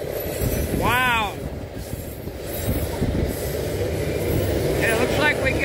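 A freight train loaded with coke or coal rolls past in Ohio, making a steady, close rumble of wagons with a brief wheel squeal early on and another near the end.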